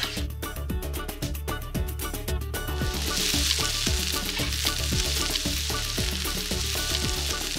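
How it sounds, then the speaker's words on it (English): Paella sofrito cooks in a wide pan over a smoky wood fire, sizzling loudly and steadily with dense crackling that swells a little after the first few seconds, close by with no talking. "what's the purpose of cooking something in a pan over a wood fire?"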